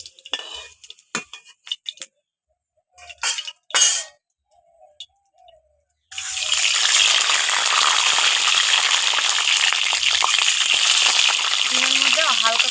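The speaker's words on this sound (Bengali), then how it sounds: "এবার আলুগুলো তুলে ডিমগুলো ভেজে নেব।" Eggs frying in hot oil after potatoes were fried in the same pan, a steady loud sizzle that starts suddenly and keeps going, preceded by quiet kitchen clinks and handling.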